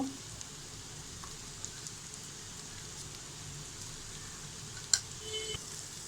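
Rice fries in a pan for almond pulao, giving a soft, steady sizzle close by with occasional stirring scrapes and one sharp clink near the end, quiet and continuous with no talking.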